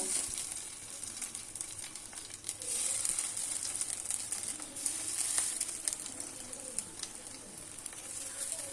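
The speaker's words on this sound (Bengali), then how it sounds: "এগুলো একটু ভেজে নেব।" Semolina idli pieces fry in a little oil in a kadai, producing a steady, fairly quiet hiss and crackle with light stirring sounds.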